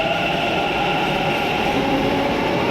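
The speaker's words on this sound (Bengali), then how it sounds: "আমাদের মেট্রো এসে যাচ্ছে এই মুহূর্তে একটা মেটে চলে যাচ্ছে আর একটা আসছে" A metro train arrives at a station platform, a steady loud rumbling roar with a faint high squeal partway through, continuous and close for the whole stretch.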